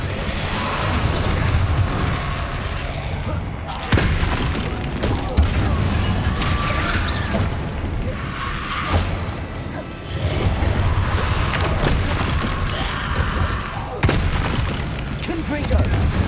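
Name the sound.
Incendio spell blasts in Hogwarts Legacy video game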